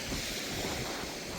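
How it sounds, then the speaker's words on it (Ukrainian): Strong wind buffets and roars across the microphone in a steady, loud rush by a river, with waves or water churning underneath. "Вітер капець сьогодні"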